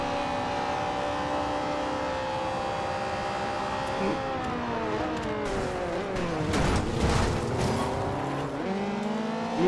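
Ferrari 458 engine in Forza Horizon 2, a steady high-pitched wail that climbs and dips through gear changes, with a sharp tonal sweep mid-run as revs drop and rise again, loud and continuous throughout.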